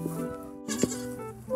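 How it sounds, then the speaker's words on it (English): A sheep bleats on a farm, a short wavering call standing out over background noise partway through. "That right there is Maisie, our sheep."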